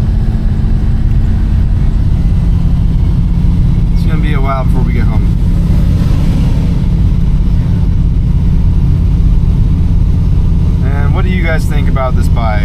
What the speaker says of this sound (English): hauling the Toyota, going 15 miles an hour. Yep, first gear.